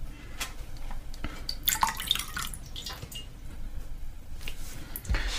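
A damp sponge dabs and lifts wet watercolour paint off paper. Soft, irregular squishes and small wet drips come one after another, close and fairly quiet, with no voices.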